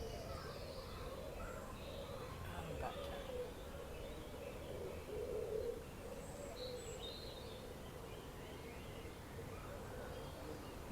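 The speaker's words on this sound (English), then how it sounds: "really nice bird song this evening, isn't it?" Evening birdsong outdoors during a group T'ai Chi Chuan session, with soft chirps and calls scattered faintly over a steady background murmur, continuing for the whole stretch.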